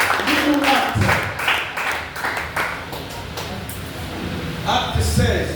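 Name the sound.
congregation applauding and acclaiming the Lord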